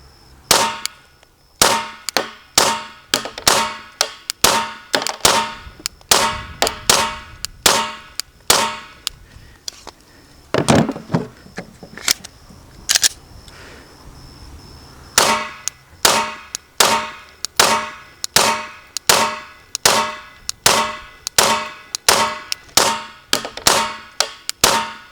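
A Glock pistol fitted with a muzzle compensator fires sharp, loud, evenly spaced shots in long strings outdoors, with a short pause and a few scattered reports in the middle.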